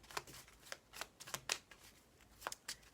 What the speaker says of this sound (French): On va tirer quelques petites cartes.